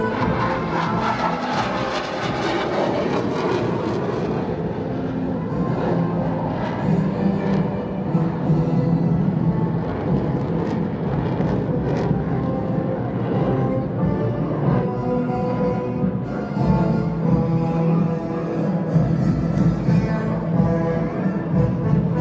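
A PLA Air Force Ba Yi team fighter jet roars continuously during aerobatic rolls and circling at the Singapore Airshow 2020, a loud sustained engine drone that swells and fades slightly as it passes, without talk.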